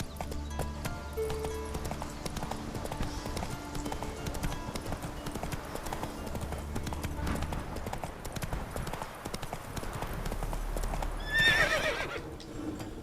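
Rapid, rhythmic hoofbeats of a horse galloping along a road in The Witcher 3 video game run throughout, ending with a short, loud neigh near the close.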